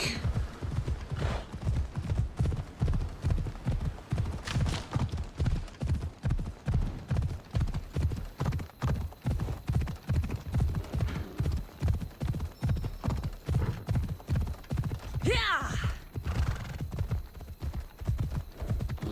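Horse hooves clip-clop in a steady, continuous rhythm throughout a ride in Assassin's Creed Odyssey, close and prominent, with a brief whinny-like burst near the end.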